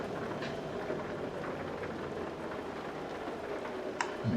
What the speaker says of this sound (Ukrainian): Дощ падає